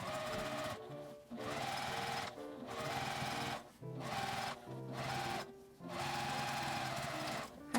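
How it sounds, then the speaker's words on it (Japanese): Sewing machine stitching along the edge of a tote bag made from IKEA fabric, running steadily in several long bursts separated by short pauses. "端を縫います。"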